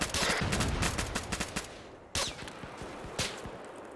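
Rapid gunfire bursts in a tactical shooter video game mission, with dense automatic shots and sharp cracks loud at first, then sparser single shots and short bursts with gaps between them.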